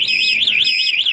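A TEXNO anti-theft alarm on a Suzuki GSX R600 K7 big bike wails loudly and steadily, its shrill tone rising and falling in a fast, regular warble with no talk over it.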